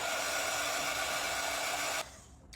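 A hair dryer blows steadily and loud on a stenciled frame in a coastal-style craft makeover, a constant airy roar that cuts off abruptly near the end, leaving a faint quiet tail.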